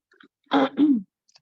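A single short, throaty cough in two quick bursts, close and fairly loud, surrounded by near silence.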